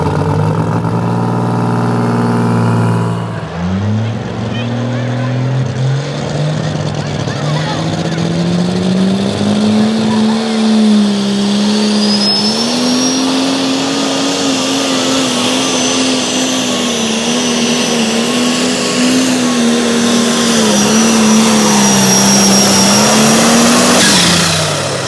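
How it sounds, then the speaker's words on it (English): A pulling tractor's engine roars steadily with a rising, sustained drone that holds for the whole run at a tractor pull in Langford, New York, with a crowd or announcer's voice faintly underneath. "great run by Pete Garrington and his beautiful tractor"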